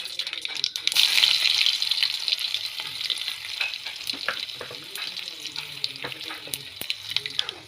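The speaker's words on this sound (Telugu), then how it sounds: "ఈ విధంగా దంచుకొని ఇప్పుడు తాలింపులో వేసుకున్నాం" Coarsely crushed garlic cloves with skins frying in tempering oil for a spicy karam chutney; a close, bright sizzle with intermittent stirring scrapes, fading slightly over several seconds.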